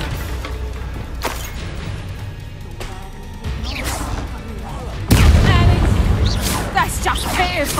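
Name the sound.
Bombarda explosion spell from Hogwarts Legacy video game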